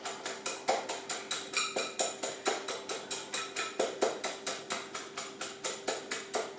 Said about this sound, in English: I'll just give a final whisk to the 3 eggs